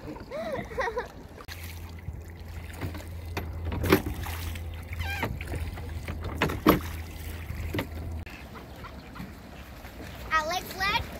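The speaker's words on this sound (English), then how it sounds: "Right now, I'm rowing the boat." Oars working a rowboat on Lake Bled in Slovenia, with repeated splashes and knocks of the oars against the water and hull, near and moderately loud, with occasional voices and a child's chatter around them.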